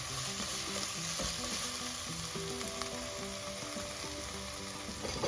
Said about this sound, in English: This real fresh green should become dark green as it's getting fried.